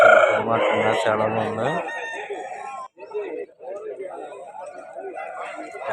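A rooster at the Vijayawada rooster market lets out one long, loud crow close by, followed by people talking amid faint clucks and market noise.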